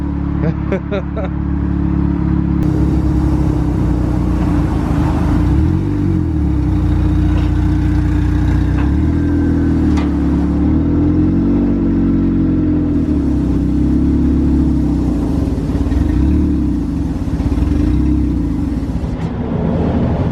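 A car engine runs loudly and steadily close by, idling with a deep rumble and rising in revs at times, while people talk over it.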